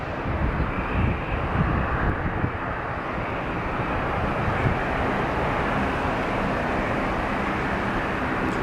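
Near Seattle's airport, a jet airliner's engine roar rumbles steadily, broad and fairly loud, a little rougher at first and then evening out into a sustained wash of noise, with no talking.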